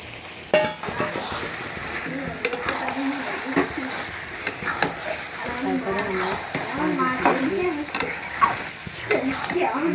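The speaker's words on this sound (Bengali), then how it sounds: "এবারে ভেজে রাখা আলু আর টমেটোটা মাংসতে দিয়ে দিচ্ছি।" Fried potatoes and tomatoes go into a country chicken curry and are stirred, with continuous frying sizzle, spoon scrapes and occasional clinks under frequent speech.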